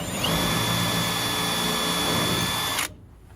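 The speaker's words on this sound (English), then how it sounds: "we're gonna go ahead and drill our pilot holes through the 2x4s" A power drill bores a pilot hole through a 2x4, a steady close high whine for almost three seconds that cuts off abruptly.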